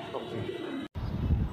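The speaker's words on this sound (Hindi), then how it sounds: "ये भी कमल अरोड़ा के यहाँ से कबूतर आया हुआ है" A Teddy pigeon in a sale loft gives a few low, close coos, with a brief cut in the sound partway through.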